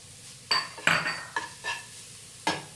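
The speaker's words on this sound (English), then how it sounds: "And keep stirring to avoid it burning." Spices being stirred in a pan while making street-style Punjabi aloo samosa filling, with a few distinct scrapes and clinks of a utensil against metal, spaced irregularly, close and moderately loud.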